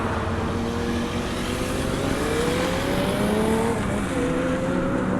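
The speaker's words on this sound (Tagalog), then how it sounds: "Kawasaki ZX25R." A Kawasaki ZX25R motorcycle engine runs steadily nearby, its high-pitched whine rising in pitch through the clip, with no voices.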